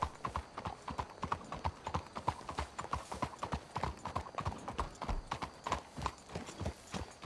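Horse hooves clip-clop in a steady trotting rhythm in the video game Red Dead Redemption 2, near and moderately loud, with a faint whinny and no talk over the hoofbeats.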